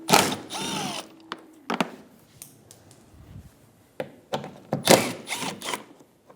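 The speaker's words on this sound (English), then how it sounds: "Using a 3/16 hex bit, remove these two bolts for the rear bumper." A power tool fitted with a 3/16 hex bit backs out rear bumper bolts on a 2013-2017 Honda Accord, heard as short close whirring and ratcheting bursts separated by clicks and handling knocks.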